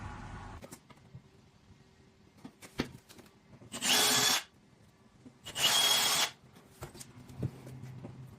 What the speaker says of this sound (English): drill some holes, put in the wall anchors